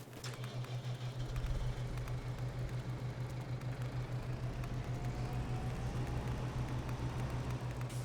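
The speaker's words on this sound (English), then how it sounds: "let's get our little tractor down" A small tractor engine idles steadily in a farming and town-building video game, a constant low hum running alone without pauses.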